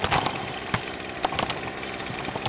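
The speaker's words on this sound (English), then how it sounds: "Let the trimmer idle." A petrol string trimmer engine idles close by with an uneven, rattling putter, its small motor giving irregular pops and surges over a couple of seconds, with no voices.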